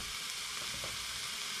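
Cooked rice hits a hot frying pan for fried rice, giving a steady, loud sizzle and crackle of frying with faint stirring, no talking over it.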